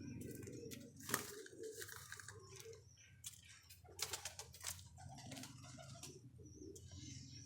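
Domestic high-flyer pigeons, including golden-coloured birds, coo softly and intermittently in a faint, close recording, with light rustling and some background noise.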